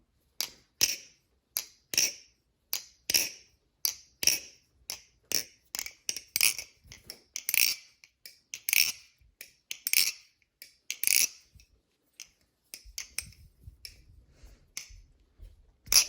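Crisp, rapid metallic clicks and snaps of an NRB Vortex butterfly knife being flipped, in quick irregular bursts, close up with no talking.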